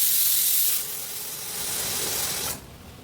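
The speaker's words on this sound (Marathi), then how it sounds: "त्याचे असे दोन पाकिट तांदूळ धुवून घेणार" Rice being rinsed in water in a home kitchen while preparing spinach dal and rice, a steady hissing rush of water that drops in level partway through and softens near the end, with no talking.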